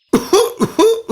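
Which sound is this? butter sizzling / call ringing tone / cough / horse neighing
cough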